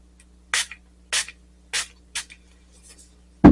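Five short hissing bursts of makeup setting spray come close to the microphone, spaced about half a second apart, followed by a sharp knock at the end.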